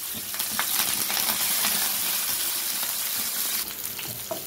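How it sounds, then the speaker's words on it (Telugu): Onions, mustard seeds, cumin and curry leaves fry in hot oil, a dense continuous sizzling hiss with faint crackles and occasional stirring scrapes, loud and close without any talking. "ఇప్పుడు ఆనియన్స్ మగ్గుతున్నాయి కదా"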